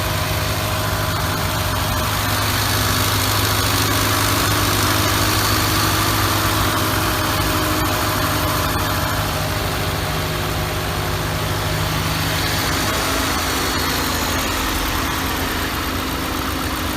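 A Range Rover Velar P380 R-Dynamic HSE with a 2000 cc petrol engine, in GTA 5, idles in a steady, loud, continuous hum for the whole stretch, with no talking.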